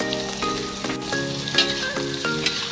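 Chicken gizzards, liver and sausage hit a hot pan with a loud, steady sizzle, broken by several sharp scraping stirs.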